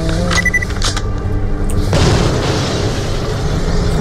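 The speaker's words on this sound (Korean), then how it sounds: "하지만 나에겐 폭발 데미지가 있지롱." Explosive blasts from the shooter game Borderlands: The Pre-Sequel: a loud, dense booming burst sustained through the clip, with sharp crackling impacts and rumbling aftermath, no talk.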